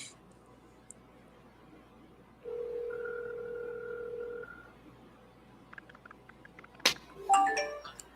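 A telephone call that goes unanswered, two long ringback tones in sequence at moderate level over a quiet background, followed by brief clicks and a short burst of faint voice-like noise at the end.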